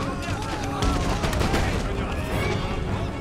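Musket fire in an Empire: Total War battle for Martinique, a dense, continuous crackle of many overlapping shots with heavier booms, loud and filling the whole stretch.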